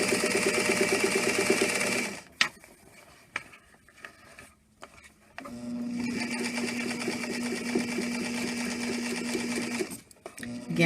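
Sewing machine stitching bias tape onto dress fabric, a steady rapid whirring at close range that pauses briefly midway, then resumes its even hum before stopping near the end.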